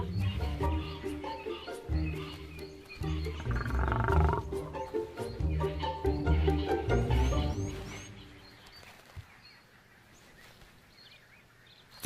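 A lioness and a male lion snarl and growl in the wild in Africa, loud overlapping throaty roars that fade into quiet, with birds chirping faintly in the background.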